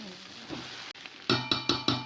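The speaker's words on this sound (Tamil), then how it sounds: "நல்லா கிண்டு போடு." Kottu roti being stirred and chopped on a hot griddle, soft sizzling and scraping followed by four sharp, evenly spaced metallic clangs close by.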